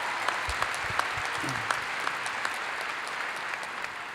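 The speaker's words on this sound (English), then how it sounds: "Give him another round of applause." Sustained applause from a university commencement audience for the president, an even, moderately distant wash of clapping with a few sharper individual claps standing out.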